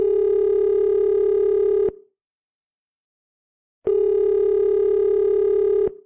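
A telephone dial tone hums loud and steady for about two seconds, cuts to silence, then returns for another two seconds, with no dialing tones evident.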